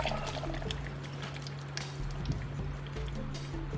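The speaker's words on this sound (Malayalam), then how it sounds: "ഇതിനകത്ത് ഒരു തേങ്ങയുടെ തേങ്ങാവെള്ളം അതും കൂടെ ഒഴിച്ചു കൊടുക്കേ." Coconut water is poured into a mango and cucumber drink, giving a faint, soft trickle and drip under a low background hum, with no talking.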